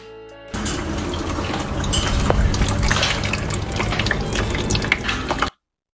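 Oil mixed with water draining from a car engine, a steady gurgling, splashing pour starting abruptly and running continuously for about five seconds before cutting off.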